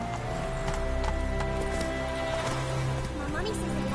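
Hooves clip-clop steadily from a horse galloping in The Witcher 3: Wild Hunt, the rhythmic beat running under game music and voices throughout.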